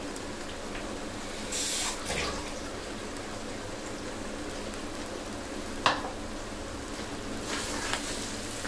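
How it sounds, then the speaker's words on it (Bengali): Running water rinses out a jar and is poured into a pot of cooking dhaba-style chicken, a steady close splashing wash with a couple of brief louder gushes, no voices. "এই জারটা ধুয়ে একটু পানি দিয়ে দিতে হবে।"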